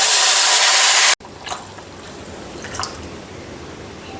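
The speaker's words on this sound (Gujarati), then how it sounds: "તો હવે આપણે પાણી નાખી દઈશું તેમાં એક ગ્લાસ આપણે પાણી નાખી દઈશું" A glass of water is poured into golden-brown roasted wheat in a hot pan for lapsi, bursting into a loud hissing rush that cuts off after about a second and leaves faint drips and bubbling.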